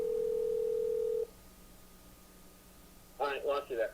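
A phone call back ringing out, a single steady tone for about a second, then quiet line hiss before a voice comes on the line.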